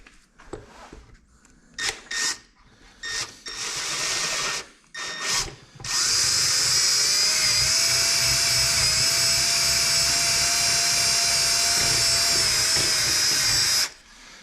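A power drill starts with a few short bursts, then runs in a long, loud, steady whine as the bit widens a hole in a metal manifold.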